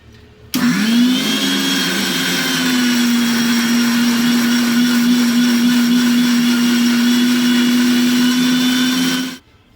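A kitchen mixer grinder whirs steadily for about nine seconds, grinding fenugreek, coriander and sour yogurt into a paste, starting abruptly with a rising hum and cutting off sharply at the end.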